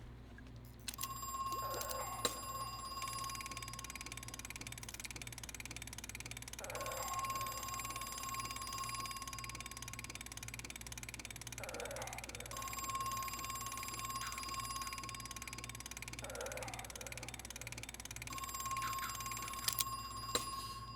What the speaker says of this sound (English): let's answer this phone.